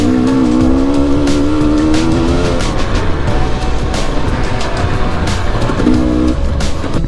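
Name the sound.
enduro motorcycle engine revving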